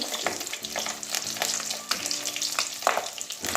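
Fish roe fritters fry in hot oil over lowered gas, a close, steady sizzle broken by crackling bursts of light spattering.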